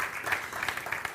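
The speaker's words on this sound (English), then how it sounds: "I would like some applause," Audience applause at a church service, a short burst of scattered clapping from a modest crowd, fairly faint and lasting about a second.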